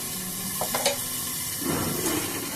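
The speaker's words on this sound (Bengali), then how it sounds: "এগুলোকে ভাজতে ভাজতে আমি একটা চাপা দিয়ে দেব এটা ভাজা হোক" Bitter gourd and potato pieces fry in hot oil, giving a continuous close sizzle with a few soft stirring clatters and a brief swell of crackling near the end.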